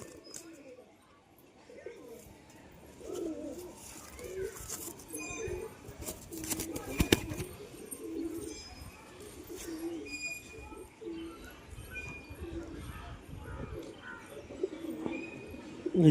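Pet pigeons suffering from a cold coo softly and repeatedly in a quiet indoor space, with scattered rustles and handling noises and a few distant voices in the background.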